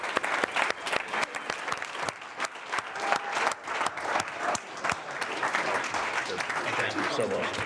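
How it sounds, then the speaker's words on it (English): An audience gives a steady round of applause, with many hands clapping close and loud at first, then settling into a thick wash of crowd clapping that carries on to the end. "let's give this guy a big round of applause"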